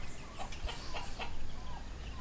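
Native Tagalog chickens kept on a farm in Tanay, Rizal, cluck in a short series of close, repeated calls over a rumbling background, with turkeys also kept nearby.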